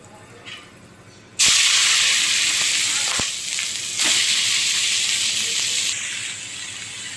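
A boiled, squeezed-dry vegetable is dropped into hot oil with dried red chillies, setting off a sudden loud hiss that settles into steady, close sizzling frying, swelling again midway, after a quieter start.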